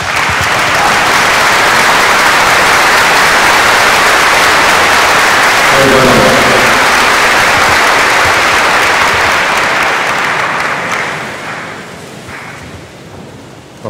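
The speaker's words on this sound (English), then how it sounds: "Now let's all please stand and applaud and welcome Mr." Standing ovation for Medal of Honor recipient Barnum at a Marine Corps tribute in Wakefield: loud, dense applause from a large crowd sustained for about eleven seconds, then tapering off near the end.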